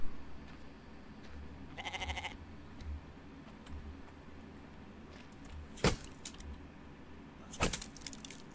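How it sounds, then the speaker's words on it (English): A goat in the survival game The Infected bleats in a short, wavering cry, followed by a couple of sharp clicks over a faint ambient bed. "Goat."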